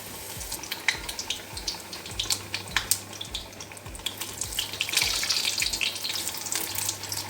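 Bread pakora coated in gram flour batter fries in hot oil with a dense, crackling sizzle. Scattered pops and taps sit over it, and it swells louder midway.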